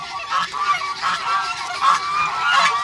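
Repeated loud honking calls from nearby Muscovy ducks on a farm, coming in a steady series of harsh, nasal bursts.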